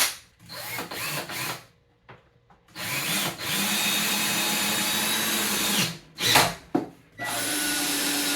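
Power drill countersinking a screw hole in wood shelving, with bursts of high whirring drilling starting and stopping, one long steady run in the middle and another at the end, close and fairly loud.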